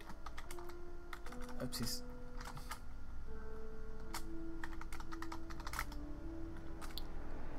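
Keys clack on a computer keyboard as a password is typed, a fast, uneven patter of taps with soft talking underneath.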